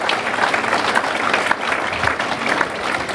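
Audience applause for Roger Mille, municipal councillor, at a mayor's New Year ceremony in Seclin: dense, steady clapping from a large crowd filling the hall, with no speech.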